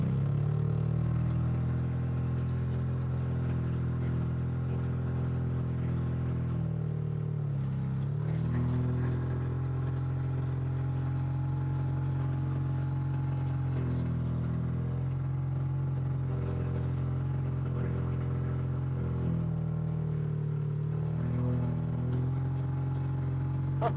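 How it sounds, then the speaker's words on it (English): A classic Mini engine with a carburettor needing tuning runs at a steady, high idle, a continuous low throbbing drone with slight rhythmic clatter and a few brief dips, close and loud, with no talking. "it'll only idle like really high, so we do need to tweak the carb"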